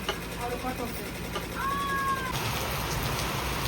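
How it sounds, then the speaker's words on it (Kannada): Steady rain hisses throughout, and a cat meows a couple of times partway through, fairly close. "ನೋಡ್ರಿಪ್ಪ ಮಳೆ ನಿಂತ ಇಲ್ರಿ ಇವತ್ತು"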